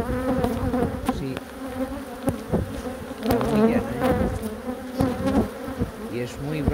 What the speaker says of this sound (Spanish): en esta época todas las abejas son bravas